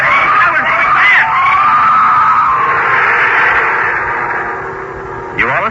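In an old-time horror radio drama, a creature lets out a long, shattering scream that rises and holds for several seconds, loud and close, with a shorter shriek breaking in near the end.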